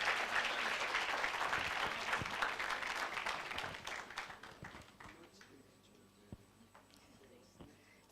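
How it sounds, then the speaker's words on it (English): A hall full of people applauds matric top achievers at a social development awards ceremony, the loud, dense clapping tapering off midway into scattered claps and a few faint voices. "Another well-deserved round of applause."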